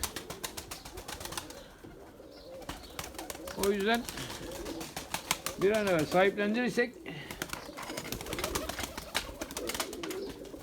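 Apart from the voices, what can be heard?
pigeons cooing in a small coop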